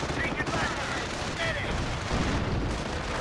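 Half-track machine gun suppression fire in a strategy video game battle, a steady low rattle of gunfire and distant blasts running beneath faint background noise throughout.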